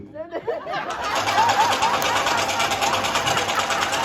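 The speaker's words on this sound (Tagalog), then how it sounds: "Nagtatahi ako ng panyo, tuwalya, kumo, at carpet." A sewing machine stitches handkerchiefs and towels, with a fast steady mechanical whir and chatter running continuously after a brief start, and a voice talking over it.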